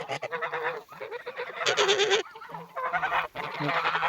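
Moulting geese and ganders honk in a run of loud, nasal calls close by, several overlapping bursts separated by short pauses.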